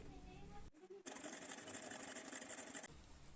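Sewing machine running a rib-seam topstitch along a bellows pocket: a steady, fast mechanical whir lasting about two seconds, framed by brief quieter room sound before and after.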